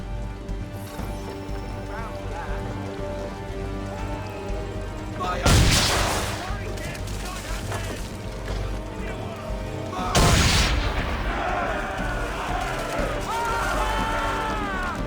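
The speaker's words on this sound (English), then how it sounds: "Hit those old powder barrels and light up the sky." Powder barrels exploding after swivel gun shots from a ship in Assassin's Creed 3: two loud, sharp blasts several seconds apart with rolling rumble after each, over steady sea and wind noise and background voices.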